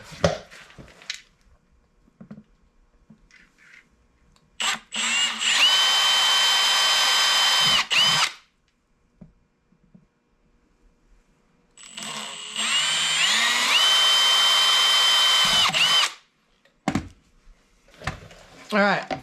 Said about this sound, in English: here I like to drill by holes first